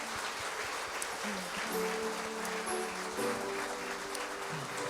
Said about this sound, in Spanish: ¿Podemos darle un aplauso de agradecimiento al Señor?